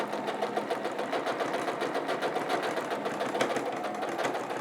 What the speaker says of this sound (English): You can hear when my foot is hitting lots of different seam allowances